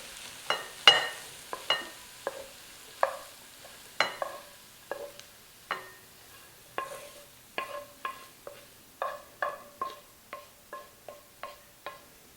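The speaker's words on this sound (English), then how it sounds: "I'll place this mixture into my bowl." Metal spoon scraping and clinking against a frying pan in a steady series of short taps, close by, with no talk, as a cooked stuffed-pepper filling mixture is spooned into a bowl.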